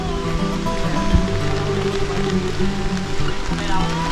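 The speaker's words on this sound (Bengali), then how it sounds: "তুইনখালের সাউন্ড এখান থেকে পাওয়া যাচ্ছে, প্রচুর স্রোত" The Tuinkhal stream runs with a strong current through reserve forest in Bandarban, a loud continuous rushing wash of water heard close, with no break through the stretch.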